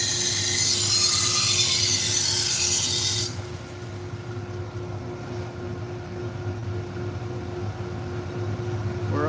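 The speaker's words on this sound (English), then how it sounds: "This first belt is 120 grit 3M Cubitron, and I don't want to heat the blade up." Knife blade grinding on a 120 grit 3M Cubitron sanding belt, a loud bright rasp for about three seconds that then cuts off, leaving the steady hum of the belt grinder motor running alone.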